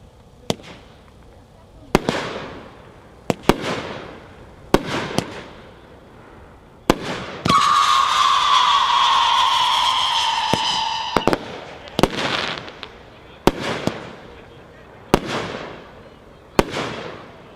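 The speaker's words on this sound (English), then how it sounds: "Up first is a Class B brand cake, pack 4-1, 18 shots." A Class B firework cake fires its 18 shots as a series of sharp booming reports spaced a second or two apart, with a long crackling, whistling burst partway through, heard from a moderate distance.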